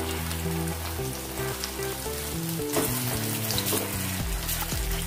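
A crispy semolina and raw potato snack fries in oil, giving a steady sizzle that swells as it is flipped, under background music.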